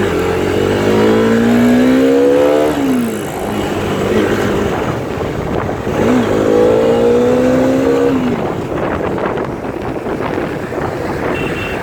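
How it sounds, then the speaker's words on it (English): Bajaj Dominar 400 motorcycle accelerating hard through two gears, engine pitch rising steadily then dropping at each shift, loud and close under heavy wind noise. "So I'm going to accelerate now. Nice strong acceleration."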